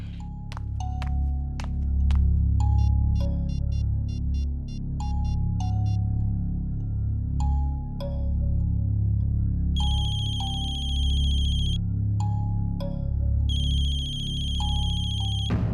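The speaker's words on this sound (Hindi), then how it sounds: "मम्मा फोन की आवाज तो यही कहीं से आ रही है।" A phone ringtone repeating its melodic chime pattern, joined later by sustained electronic tones, over a low steady background hum.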